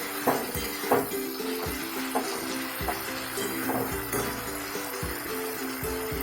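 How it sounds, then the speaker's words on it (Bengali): Egg curry masala being stirred and fried in a pan, with a spoon scraping and clinking against the metal in an irregular rhythm over a steady background sizzle. "এইভাবে কষাতে থাকবে, নাড়তেই হবে, নেড়েই যেতে হবে।"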